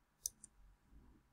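Computer mouse clicked while drawing a map on screen: two quick, faint clicks close together, alone in a quiet room.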